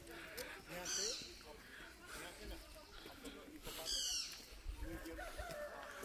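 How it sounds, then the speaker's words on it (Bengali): Birds call in a misty Dowhill pine forest: two clear, sharp chirping bursts ring out a few seconds apart over a low outdoor murmur and faint background voices. "পাখির ডাক দেখতে পাচ্ছেন এখানে।"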